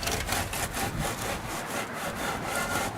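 A board screeds wet concrete for an outdoor kitchen countertop, a rhythmic, gritty scraping that repeats back and forth in even strokes at close range, with no voices.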